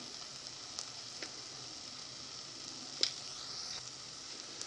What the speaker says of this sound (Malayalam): ഇഞ്ചി വെളുത്തുള്ളിൻ്റെ എല്ലാം പച്ചമണം മാറുന്നത് വരെ വഴറ്റിയെടുക്കാം.